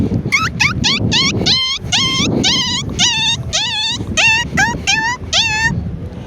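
A man imitates a puppy being kicked, giving a rapid series of about a dozen loud, close yelping whimpers in a steady rhythm that carries on without a break.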